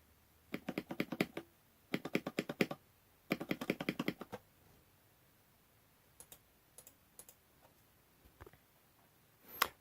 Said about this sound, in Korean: 마지막으로 그 스페이스바 소리 한번 비교해 볼게요